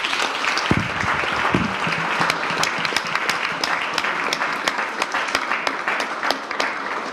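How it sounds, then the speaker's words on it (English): Sustained audience applause at a school sports awards ceremony, many hands clapping steadily and fairly loud for the whole stretch, with a few brief vocal sounds near the start. "Another round of applause, please."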